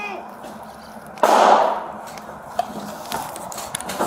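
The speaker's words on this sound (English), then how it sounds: "we got shots fired out here" A single loud gunshot bursts out in a Little Seoul street during a GTA V alt:V roleplay shootout, followed by fainter scattered pops and background radio chatter and voices.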